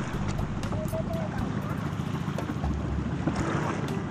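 Small paddle boat (bangkang sagwanan) pushed through water near shore, a steady wash of water and wind noise running throughout with faint voices in the background.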